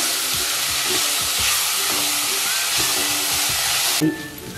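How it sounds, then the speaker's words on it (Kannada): Soaked moong dal sizzles and crackles while roasting in a hot pan for gluten-free khichdi, a steady frying hiss with occasional stirring scrapes, close and continuous, no talking. "ನೆನೆಸಿದ್ವಲ್ವ ಹೆಸರು ಬೇಳೆ, ಅದನ್ನು ಹಾಕೋಣ. ಇದು ಸ್ವಲ್ಪ ಹುರ್ಕೊಳ್ಳೋಣ"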